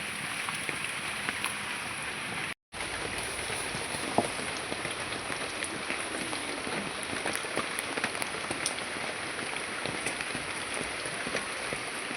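Steady rain patters densely on a surface close by, a continuous hiss with scattered drop hits and one brief moment of silence, while someone cooks during the downpour.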